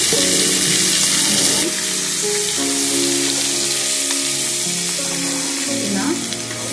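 Chopped capsicum is added to hot oil for a masala curry, setting off a loud, continuous sizzle with brief stirring and scraping sounds over the frying, and no one speaking.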